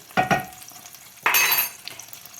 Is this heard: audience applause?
no